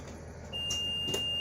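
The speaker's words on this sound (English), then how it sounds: "The alarm sounds, window opens, closes, and latches properly." A bus emergency exit window alarm sounds during a pre-trip inspection: a steady, high electronic tone switches on about half a second in and holds unbroken over a low vehicle rumble.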